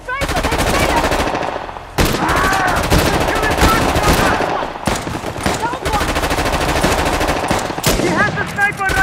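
Loud, dense gunfire fills a firefight in the video game Uncharted: The Lost Legacy, including sniper rifle shots, with rapid overlapping reports and bursts that continue almost without pause.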